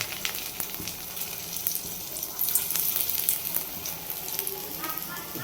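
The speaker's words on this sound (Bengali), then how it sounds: "এগুলো চিংড়ি মাছ তো অল্প আঁচেই ভাজতে হবে" Small shrimp fritters made from tiny prawns frying in oil over low heat, giving a steady, fairly loud bubbling sizzle with crackling pops throughout, with no voices.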